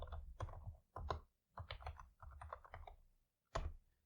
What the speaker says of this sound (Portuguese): se eu apertar Enter